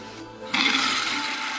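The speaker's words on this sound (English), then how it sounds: "Turn the water back on and check for leaks." Water rushes into a toilet tank as the supply is turned back on after fitting a new flush valve: a sudden, steady hiss of flowing water that starts abruptly and keeps running without a break.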